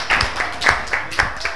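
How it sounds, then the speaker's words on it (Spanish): A group claps for children at a live television show, with brief, rhythmic, fairly close hand claps repeating several times within a second and a half. "Estos niños se merecen un aplauso para ellos."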